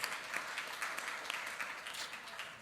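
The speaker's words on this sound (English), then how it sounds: "Absolutely, applause is due." Audience applause at an academic conference session, a steady dense patter of many hands clapping at moderate distance, fairly faint, with no speech over it.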